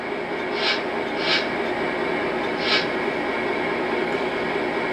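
A GP9 model locomotive's sound system plays a steady, even diesel engine drone, with three short hissing bursts rising over the constant rumble at a moderate, close level and no voices.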